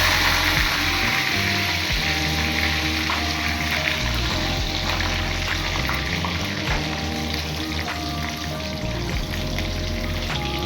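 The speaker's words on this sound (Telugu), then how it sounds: "సలసల కాగే నూనెలో బొమ్మిడి చేపల ఫ్రై" Pieces of bommidi fish deep-fry in hot oil, a dense, steady bubbling sizzle with crackling pops that runs close and loud throughout, while a low rhythmic thumping beat plays underneath.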